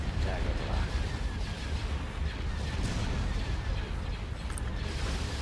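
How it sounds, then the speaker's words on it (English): Continuous heavy booming and rumbling velocity cannon fire from Star Wars: Empire at War, dense low thuds overlapping without pause. "Velocity cannon firing."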